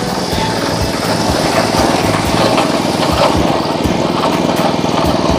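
A second-hand Honda engine on a water pump runs close and loud, a steady buzzing putter with a rapid even firing rhythm throughout.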